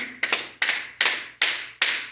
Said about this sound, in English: Clap hard.